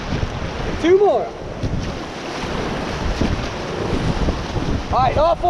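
Whitewater rapids surge and crash as a raft paddles through big waves on a river gorge, a loud continuous roar with wind buffeting the microphone and brief shouted voices over the water.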